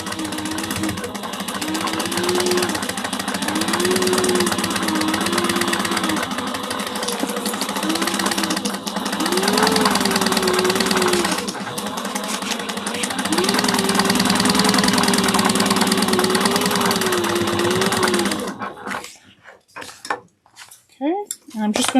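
A sewing machine bastes a sling's fabric with a 1/8-inch seam, its motor whirring loud and steady for about eighteen seconds before cutting off near the end.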